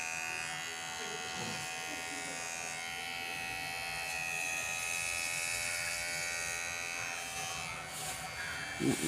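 A new electric hair clipper buzzes steadily and close while cutting an older man's hair at home, a continuous hum running the whole time with soft scraping near the end.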